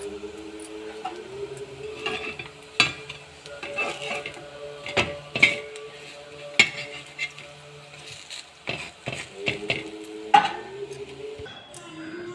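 Raw banana (vazhakkai) stir-fried in a pan, with repeated sharp scrapes and clinks of a spatula against metal over a soft background sizzle, irregular and close.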